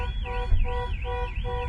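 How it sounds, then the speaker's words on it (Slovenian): A Porsche 718 Boxster Spider's car alarm wails up and down in a rapid repeating electronic sweep, loud and close, cycling about three times with no voices. "Alarm."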